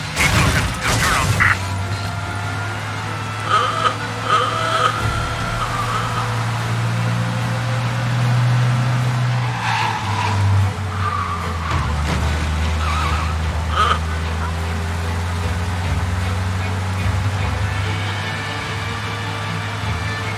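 A car engine in Mafia: Definitive Edition drones steadily at speed with shifting pitch, occasional tire noise and mechanical clatter, accompanied by brief background voices.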